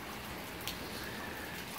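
Heavy rain pours in Antalya, a continuous even hiss of drops on surfaces at moderate, steady level with one brief brighter splash, no voices.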